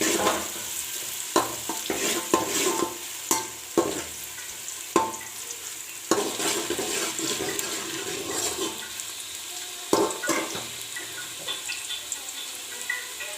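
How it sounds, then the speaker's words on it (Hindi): Chopped onions frying lightly in a pan for an aloo baingan dish give a steady soft sizzle, broken by several sharp clatters and scrapes of stirring, close and alone without talk. "प्याज हमारा हल्का सा फ्राई हो गया है"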